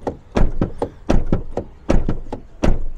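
A Peugeot Rifter car's doors open and close in a run of sharp, close thunks and clicks, roughly eight impacts in irregular pairs, with no talking.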